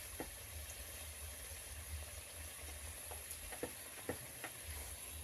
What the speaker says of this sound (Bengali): এই যে দেখেন পুরি ছাকছি